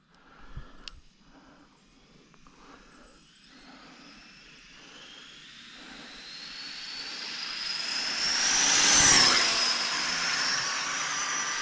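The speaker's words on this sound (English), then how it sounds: "Had it full throttle there for a good bit" An Arrma Typhon RC car on a full-throttle speed run near 112 mph gives a thin, high electric whine that builds steadily, peaks loudly as it passes close by, then trails off.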